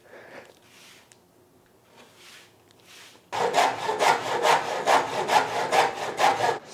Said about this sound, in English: Sawing never ends.